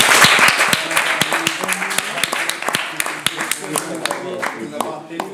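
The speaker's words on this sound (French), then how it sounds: "On les applaudit quand même." An audience at a provincial quiz-bowl semi-final claps together, a steady patter of sharp individual claps that gradually thins and fades.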